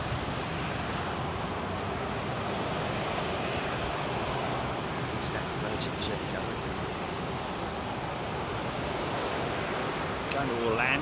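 An Airbus A380 jet airliner departs Heathrow, its engines a steady, broad roar filling the whole stretch at moderate loudness, with brief faint chirps near the end.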